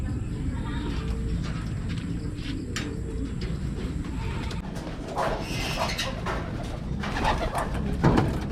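Pigeons coo steadily at close range in a loft, a low continuous murmur of several birds with occasional wing flutters and brief vocal bursts from a person.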